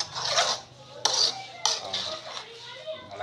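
Masala mushrooms stirred in a metal pan, with a few sharp spoon scrapes and clinks against the pan amid soft sizzling, faint background voices.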